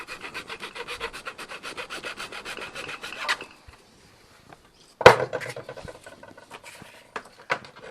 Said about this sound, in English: Okay, so the filing's done.